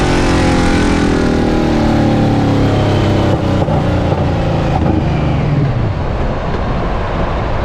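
The engine of a 1953 Chevy truck built as a drag race car roars at a drag strip, loud and close as it revs and pulls hard, then its pitch falls away toward the end.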